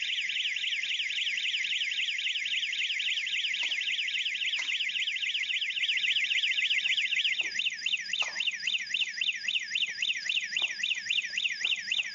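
Property security alarm blaring during a robbery in South Africa, a loud, continuous warbling electronic siren cycling rapidly and steadily, later pulsing in a slower rhythm, with faint knocks underneath.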